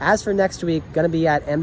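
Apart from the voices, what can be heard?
No everyday noise stands out behind the speech.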